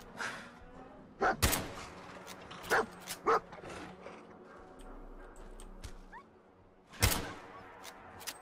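A dog barks in short bursts during a battle in the video game Fallout 4, with several sharp yips spread across the clip over a low, quiet game background.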